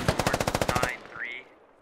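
A machine gun firing in a military video game, a rapid, evenly spaced burst of about a dozen loud rounds that cuts off and leaves a brief fading tail.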